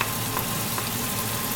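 Masala sizzling and frying in a pan while being stirred, a steady close crackle with soft scraping throughout, no voices.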